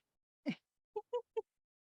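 A single sharp sneeze, close and brief, followed by three short soft vocal sounds in quick succession.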